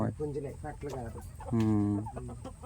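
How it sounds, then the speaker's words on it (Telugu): About seventeen chickens cluck close by in quick, short bursts, with one longer drawn-out squawk in the middle. "పదిహేడు పదిహేడు కోళ్ళ"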